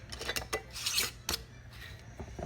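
A lid being put on a jar of cherry moonshine, a few close scraping and rasping twists with short gritty bursts.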